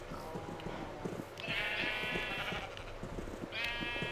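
A sheep in a video game gives a few bleats. The loud, wavering cries come twice over low, steady background noise and soft thuds.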